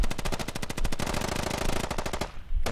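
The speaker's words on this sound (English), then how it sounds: "Somebody's still shooting inside the compound." Sustained machine-gun fire in the military shooter Squad, rapid evenly spaced bursts of loud, close shots rattling for over two seconds, a brief pause, then another burst, with no voices.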